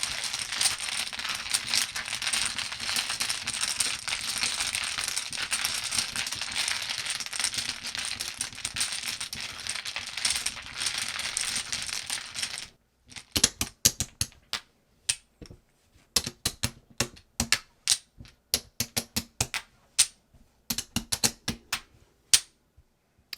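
Pai gow tiles are shuffled on a table, first as a dense continuous clattering rattle, then as separate sharp clacks and knocks at irregular intervals as the tiles are set down.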